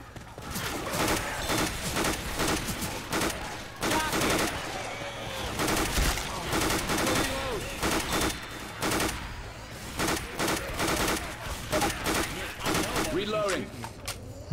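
Rapid gunfire fills a Left 4 Dead 2 match, dense repeated shots in bursts throughout, with people talking over the constant shooting.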